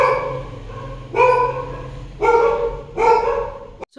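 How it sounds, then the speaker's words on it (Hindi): Dogs barking close by: three loud, separate barks spaced about a second apart over a faint low hum, with no voices. "कुत्तों ने बोलना शुरू कर दिया"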